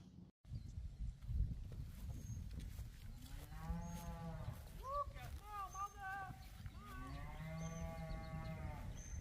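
Farm cattle gathered at a fence moo repeatedly, several long harmonic calls overlapping in the middle and end, fairly close, over a steady low outdoor rumble.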